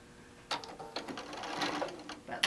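Quilt tacks are stitched on a sewing machine in short bursts of quick mechanical needle rattling, close but fairly quiet, broken by brief pauses.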